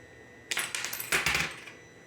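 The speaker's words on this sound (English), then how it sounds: "Just gonna take some shears and cut it." Shears snip through material in a quick run of sharp metallic clicks and cuts lasting about a second, close and clear against a quiet room.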